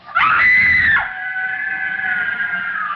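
A girl screams with rage in a Les Miserables radio drama, one loud, sustained shriek that drops into a long, thin wailing cry, heard alone without talk.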